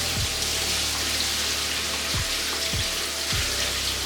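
Tap water runs steadily while burger meat is washed in a sink, a continuous rushing wash broken by a few dull low thumps.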